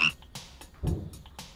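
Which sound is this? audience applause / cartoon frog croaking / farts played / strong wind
cartoon frog croaking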